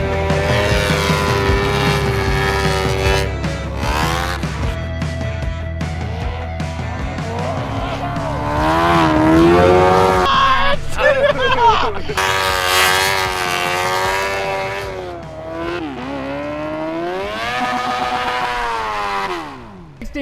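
A Yamaha R6 sport bike engine revs hard out in the backcountry, climbing again and again to its rev limiter in loud, close, wailing sweeps that last throughout.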